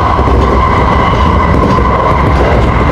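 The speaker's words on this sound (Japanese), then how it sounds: "この電車に途中の榊原温泉口まで乗っていきます。" Loud, steady rumble of a Japanese local train running on rails near Ise-Nakagawa, a continuous dense roar with faint rhythmic clatter and no voices.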